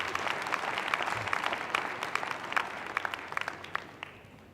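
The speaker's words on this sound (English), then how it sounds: "Round of applause, ladies and gentlemen." Applause from an audience after a keynote address, a steady patter of many hands at moderate level with sharper individual claps, gradually thinning toward the end.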